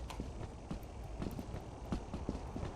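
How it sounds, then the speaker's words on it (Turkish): Giant monster footsteps in the video game Lethal Company, a run of heavy irregular thuds that sound close and moderately loud. "Kanka dev ayak sesi var burada. Bak güm güm ediyor bir şey."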